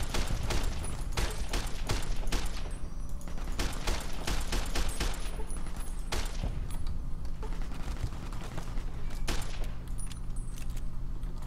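Submachine gun fire from Fallout: New Vegas, loud rattling bursts of rapid shots in several clusters over a steady background rumble.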